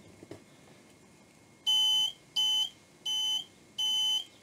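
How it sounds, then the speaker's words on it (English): A tone and probe tester's continuity buzzer sounds four steady, evenly spaced electronic beeps, each lasting about half a second, clear and close against a quiet background after a brief click. "you get the LED and the buzzer"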